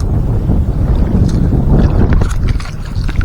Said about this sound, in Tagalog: medyo mahangin ngayon konti